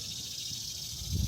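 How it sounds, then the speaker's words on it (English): Cicadas sing outdoors on a quiet morning, a faint, steady high-pitched buzzing drone hanging in the background throughout, with a soft low rumble rising near the end. "Can you guys hear those cicadas?"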